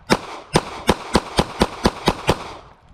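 A Ruger LCP Max pistol firing XTP rounds fires about nine sharp, loud shots in a quick, even rhythm, each crack ringing briefly before the next, with no talking.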